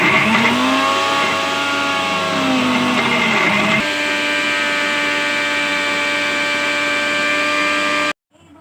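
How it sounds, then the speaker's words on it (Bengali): An electric mixer grinder whirs steadily as it grinds whole prawns, a loud tonal motor whine that shifts pitch partway through and then cuts off abruptly near the end. "আমরা আগে এই গোটা গোটা চিংড়ি মাছটা মেশিনে পেশাই করে নেব"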